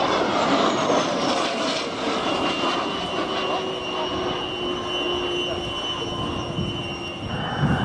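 A Dassault Falcon 50M jet of the French Navy making a fast fly-past at about 340 knots at an air display, producing a loud, steady, sustained roar with a slowly shifting whine throughout.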